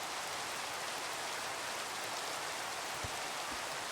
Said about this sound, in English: Let's get rid of this rain.